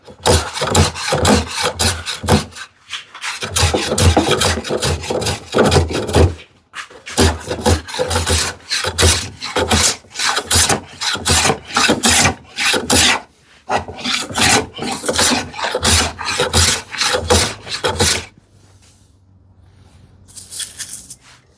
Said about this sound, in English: I'm doing some basic cleanup on this one, but I'm trying to take a full shaving so that I am as straight as possible